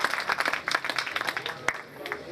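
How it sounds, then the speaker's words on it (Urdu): An audience at a mushaira poetry gathering claps, close and lively, with bursts of overlapping hand claps that thin out toward the end. "اگر آپ چاہیں تو تالیاں بجا سکتے ہیں"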